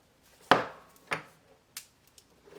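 A few sharp, dry cracks and snaps of a brittle rubber torch hose, close and fairly quiet, spaced irregularly with short pauses between them.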